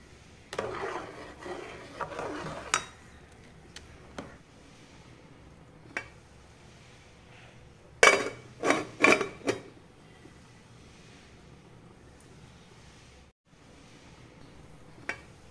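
Boiled rice is mixed with turmeric in a dish for tamarind rice. A spoon scrapes and knocks against the vessel in intermittent bursts, with a cluster of sharper clanks midway and quiet gaps between.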